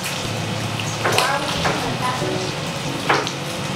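Burgers topped with jalapeno peppers and feta sizzle and fry steadily on a hot cooking surface, a continuous crackling hiss with a few louder pops, while a voice talks faintly in the background.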